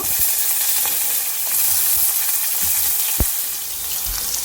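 Onions, cumin, mustard seeds and fenugreek frying in a pan give a steady, loud sizzle with scattered pops and crackles, one sharper pop standing out, with no voices.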